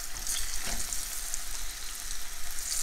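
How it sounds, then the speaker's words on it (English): Steady crackling sizzle of tofu pan-searing in hot oil, a continuous bright hiss with no voices. "Take a look, it's frying up so beautifully."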